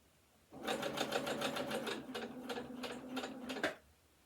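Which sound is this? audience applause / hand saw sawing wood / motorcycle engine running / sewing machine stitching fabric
sewing machine stitching fabric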